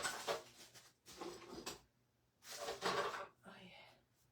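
Someone rummaging through a drawer, with rustling, clattering and shuffling in several bursts separated by short pauses, faint and close, with some quiet speech mixed in.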